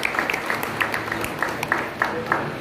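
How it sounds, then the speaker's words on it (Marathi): Audience applause welcoming Santosh Jadhav at a gathering, a brief burst of rhythmic clapping from a crowd heard at moderate distance. "संतोष जाधव यांचे एकदा टाळ्या वाजवून सगळ्यांनी स्वागत करावं"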